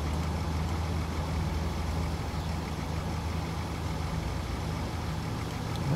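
Trucks idling at traffic lights in the Transport Fever 2 video game, a steady low engine drone with constant rumble and no breaks, even and moderately loud throughout.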